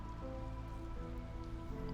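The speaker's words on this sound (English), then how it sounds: "Hailstorm is also active, but everyone is housed, so that's fine." Hailstorm weather in the video game Against the Storm makes a steady, dense patter like falling ice and rain, continuous throughout beneath soft sustained game music.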